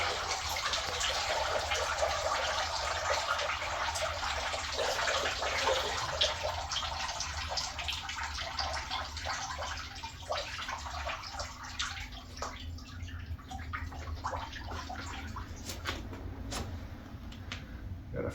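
Water drains steadily from a tub after a goose has been bathed, giving a continuous gurgling rush with scattered drips and small clicks, slowly thinning out toward the end.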